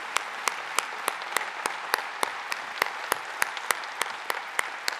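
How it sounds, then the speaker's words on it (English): An audience at an annual meeting applauds standing board members, a dense, even wash of many hands clapping at moderate distance with a few sharper nearby claps. "all stand and give them a big round of applause."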